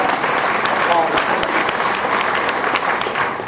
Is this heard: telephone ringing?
no